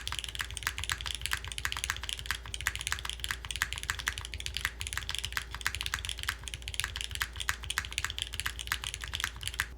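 Rapid, steady typing on a mechanical keyboard fitted with Cherry switches produces a dense run of crisp, close clicks with no pauses and no speech.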